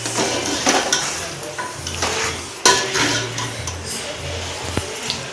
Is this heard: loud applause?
no